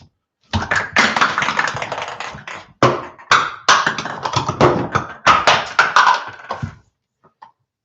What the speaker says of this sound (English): I don't think I was supposed to knock those over for you, Max.